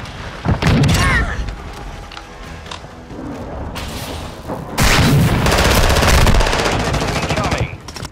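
Gunfire and a grenade blast in the Call of Duty video game: loud bursts of automatic fire and booming impacts in two dense waves, with a short quieter stretch between them.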